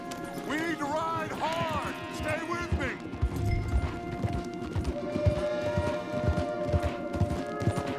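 Horses gallop with rapid, steady clip-clop hoofbeats in the video game Red Dead Redemption 2, a horse whinnies near the start, and a voice speaks briefly over the pounding.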